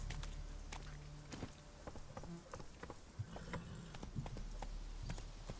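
Horse hooves clip-clop in a steady trotting rhythm while riding in The Witcher 3, moderately close over a busy bed of ambient game noise, with no talking.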